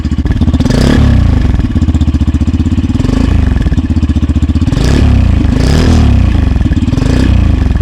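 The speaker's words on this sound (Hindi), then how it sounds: "इस बाइक का एग्जॉस्ट साउंड है, आप आराम से सुन सकते हैं।" A Yamaha FZS V4 motorcycle engine rumbles loudly and steadily up close, its exhaust throbbing with repeated revs that swell and ease over several seconds.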